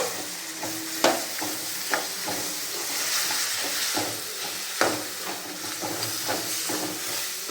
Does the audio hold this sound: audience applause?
no